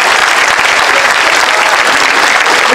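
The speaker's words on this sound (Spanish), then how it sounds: "Un fuerte aplauso para la doctora Claudia Sheinbaum" Dense, loud applause from a large crowd at an outdoor political rally in San Pedro Xalpa, Azcapotzalco, Mexico City, welcoming Claudia Sheinbaum, sustained and even throughout.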